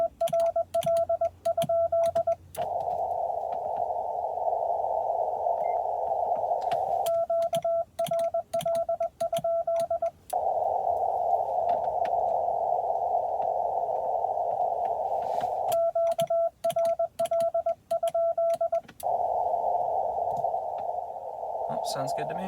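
Morse code CW on 14053 beeps out as a steady single tone in rapid keyed dots and dashes, with brief gaps and occasional breaks, heard through a radio receiver over faint hiss.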